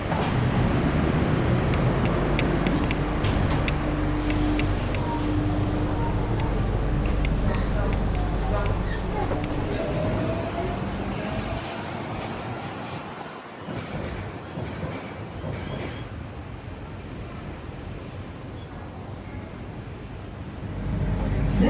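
A Sentosa monorail train at Singapore hums along on its track with wind buffeting the microphone, the rumble easing off partway through before swelling again near the end.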